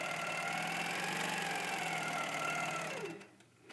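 A sewing machine stitches across a quilt, a steady, close, continuous mechanical whir with a fast needle rhythm that runs unbroken for about three seconds, then stops abruptly, leaving near quiet.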